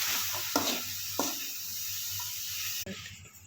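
Chopped bilimbi is being stirred into cooked masala for pickle, with a soft sizzle behind it. A few scrapes and knocks from the spoon come near the start, and the sound cuts off abruptly near the end.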